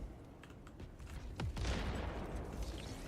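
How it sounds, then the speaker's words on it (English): A frag grenade explosion in the video game Warhammer 40K Rogue Trader, a single deep boom with a rumbling tail, fairly faint under game sounds. "Frag grenade unleashed."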